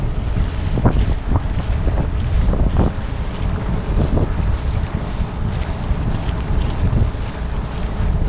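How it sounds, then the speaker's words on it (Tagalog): Strong wind at sea around a small fishing boat near rocky islets, a constant buffeting roar on the microphone with waves washing below, loud and unbroken. "palakas na ang hangin"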